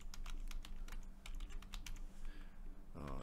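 Someone types out a sentence on a computer keyboard: quiet, rapid, irregular clicking keystrokes over a low steady hum, with a short voiced sound at the very end.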